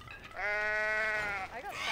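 A goat in the Goat Simulator video game lets out one long, loud, wavering bleat that rises and then trails off.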